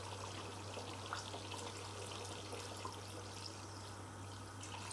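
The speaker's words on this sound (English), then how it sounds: "Now we can add in our water." Water is poured into a simmering pot of homemade peanut soup, a steady close-up rush and trickle of liquid running evenly for several seconds with a low electrical hum underneath and no talking.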